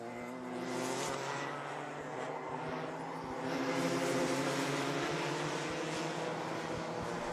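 Rotax MAX Challenge racing karts lap the Watergrasshill circuit, their small two-stroke engines making a steady, continuous high-pitched buzz that swells as the pack draws closer, with no one talking.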